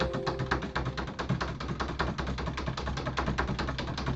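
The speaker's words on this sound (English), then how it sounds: "I can type in my text, and I'm just going to keep typing" Fast, continuous typing on a computer keyboard, with dense, even key clicks throughout, close and steady, and no voices.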